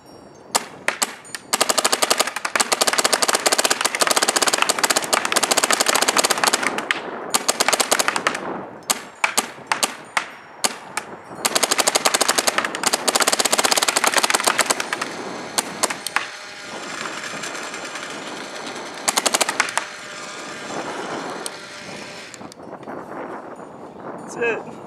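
Empire Axe paintball marker with a Furious barrel, bounced trigger on capped semi-auto at 25, firing long rapid streams of sharp pops in several bursts outdoors, with wind noise and gaps between strings.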